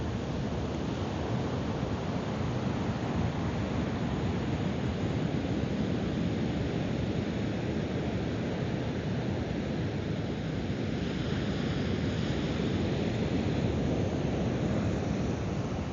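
Ocean waves on the beach at Torremolinos make a steady broadband wash, heard with wind noise on the microphone, constant and moderately loud with no speech.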